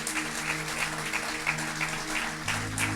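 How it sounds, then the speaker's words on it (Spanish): In a church, people applaud for Christ after the pastor's call. The clapping is moderate and even, with a sustained low musical tone beneath it and no talk. "Si le va a dar un aplauso, déselo fuerte a Cristo."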